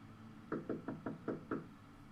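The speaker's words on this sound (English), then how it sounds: "There was no doorbell, so I just knocked really hard." Six sharp knocks on a door, fairly loud and close, in an uneven rhythm with short pauses, followed by quiet.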